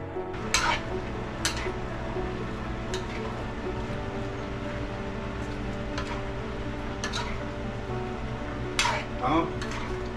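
Sliced onions fry in a pan at a steady low sizzle, while a spoon scrapes and stirs through them in several sharp strokes spread across the stretch.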